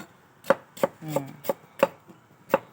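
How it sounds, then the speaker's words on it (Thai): A knife chops lemongrass and kaffir lime leaves on a cutting board in six crisp, evenly spaced strikes, close up, with a short scrape midway. "กำลังหั่นเครื่องค่ะ"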